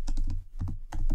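Code being typed on a computer keyboard: close, crisp keystrokes in quick bursts with a brief pause mid-way, and no talk.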